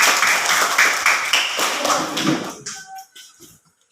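A classroom of pupils clapping together in quick, uneven bursts, close and fairly loud, then stopping abruptly with a few scattered taps and faint voices after.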